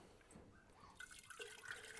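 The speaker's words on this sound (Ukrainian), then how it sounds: "І зараз добавляю холодну воду по пів літри." Cold water trickles and splashes softly into a container, a faint, brief pouring sound up close, in a farm feed room.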